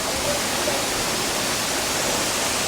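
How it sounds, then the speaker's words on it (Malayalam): Steady, dense roar of rushing water at the Thenvarikkal waterfall, loud and unbroken from start to finish, with no voices heard. "ഇതാണ് മക്കളെ നമ്മുടെ തേൻവരിക്കല് വെള്ളച്ചാട്ടം"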